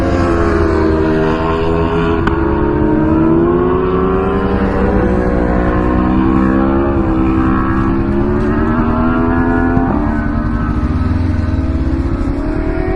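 Motorbikes racing on a racetrack in Istria, Croatia, heard as a steady, loud engine drone with rising and falling pitch as bikes accelerate, continuous throughout with no talk.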